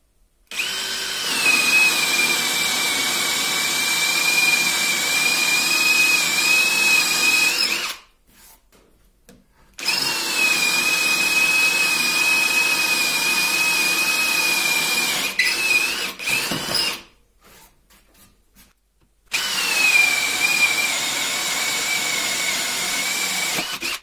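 A DeWalt DCD7771 brushless cordless drill bores with a 20 mm Forstner bit in three steady, loud, high-pitched whining runs separated by short silent pauses.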